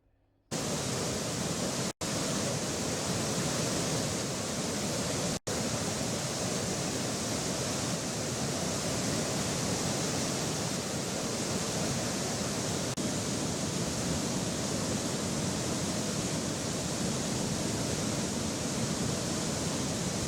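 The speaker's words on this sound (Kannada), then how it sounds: "ಹೆಚ್ಚುವರಿ ನೀರನ್ನ ನದಿಗೆ ಹರಿಸಲಾಗ್ತಾ ಇದೆ." Excess water released from the Bhadra dam into the river makes a dense, unbroken roar of rushing, churning flow. It is steady and loud from start to finish with no voices.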